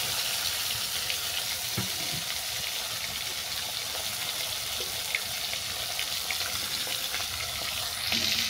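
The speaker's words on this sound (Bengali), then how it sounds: "এই তেলের মধ্যে মাছটাকে ভেজে নেব।" A piece of shankar fish (stingray) frying in hot oil in a pan for a spicy Bengali fish curry, giving a quiet, even sizzle that runs steadily with a couple of faint clicks and no speech.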